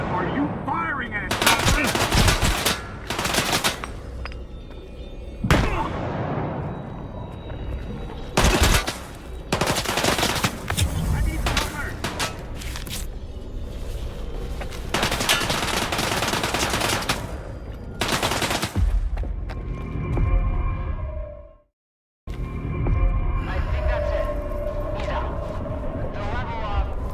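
Gunfire in the STALKER 2 video game: loud, repeated bursts of automatic and single shots over nearly half a minute, with shouted voices in between and one brief drop to silence near the end.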